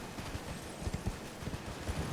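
Horse hooves clip-clopping in Elden Ring near Sellia, Town of Sorcery, a quick irregular patter of soft thuds at moderate distance over a faint ambient hum.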